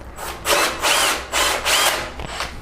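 A power drill fitted with an Onishi 6.5 mm tile bit bores through ceramic tile backed by concrete, whining in several loud bursts with brief pauses between them.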